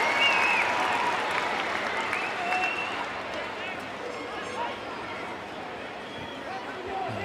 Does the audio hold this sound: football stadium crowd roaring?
yes